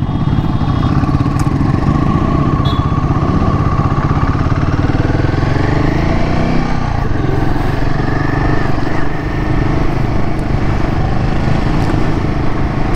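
A Royal Enfield Himalayan 450 motorcycle is ridden, its steady mid-pitched engine drone and road rumble holding loud and constant throughout, with wind noise layered on top and no voices.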